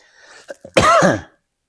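A single harsh cough from a man with a lingering cough, preceded by a few faint throat sounds, loud and close, then silence.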